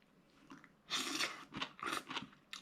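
Close, quiet chewing of spiralized zucchini spaghetti, with soft crunchy bites and moist mastication in several short bursts and nobody talking.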